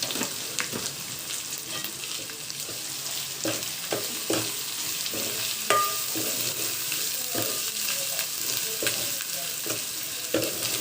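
Goat curry frying in a pan is stirred continuously, giving a steady close sizzle with repeated scraping and clinking strokes of a spoon against the pan, without talk.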